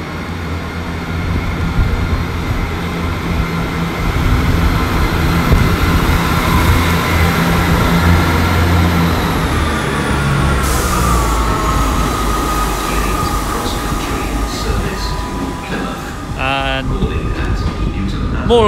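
A passenger train at Exeter St David's station, a four-coach service, rumbling steadily and loudly throughout with a low continuous drone, a brief squeal and clatter near the end.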